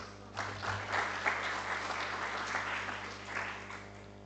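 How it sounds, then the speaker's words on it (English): Audience at an educational research talk applauding a keynote speaker, steady moderate clapping throughout that swells briefly and stays fairly close, with no voices over it. "It's nice to get the applause up front."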